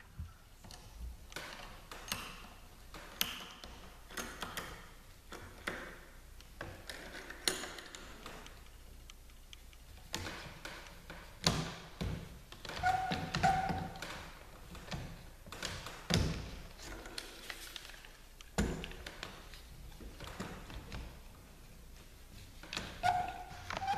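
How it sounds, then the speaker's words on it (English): C-clamps being tightened on a plywood gluing jig for dome ceiling arc ribs, heard as irregular quiet taps, ticks and dull knocks of metal and wood handling, fairly close. "As the C-clamps are tightened,"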